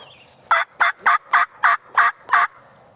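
A wild turkey gobbles in seven evenly spaced bursts, clear and fairly close in quiet Tennessee woods, with only faint background noise between calls.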